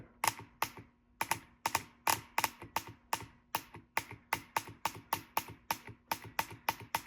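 The small control valve in a hydraulic engine mount on an Audi A4, A5 or Q model clicks close up. It makes a steady, rapid series of sharp ticks, about three per second, with no talking.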